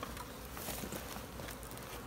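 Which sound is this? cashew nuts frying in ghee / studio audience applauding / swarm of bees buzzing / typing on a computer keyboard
swarm of bees buzzing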